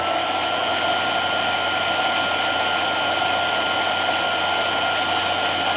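A belt drive conversion spins up to top speed in low gear, giving off a steady, loud mechanical whine and rattle that holds constant throughout with no talking.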